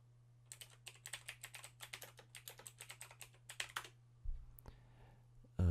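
Checklist items are typed on a computer keyboard in a quick run of crisp, close keystrokes, followed by a pause and a single firmer Enter press, over a low steady hum.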